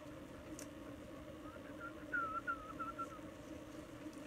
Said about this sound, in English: whistling helps